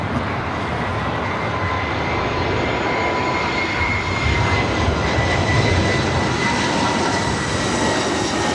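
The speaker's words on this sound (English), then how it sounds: "KLM, we got the second flight 63 coming in from Amsterdam today." A KLM Boeing 787-9 Dreamliner arriving from Amsterdam at LAX, its jet engines a steady, loud, broad roar with a faint high whine that holds throughout without talk.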